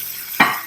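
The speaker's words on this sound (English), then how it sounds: "Let it sear for about 3 minutes without moving it" Pork tenderloin, seasoned with salt and pepper, hits a hot pan and breaks into a loud close sizzle, with a second burst of searing a moment later.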